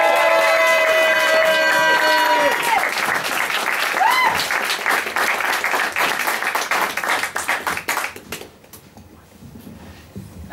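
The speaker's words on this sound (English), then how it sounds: "please give her an enormous round of applause" Loud, sustained applause from a crowd, with music playing at first, then the clapping thins and fades near the end.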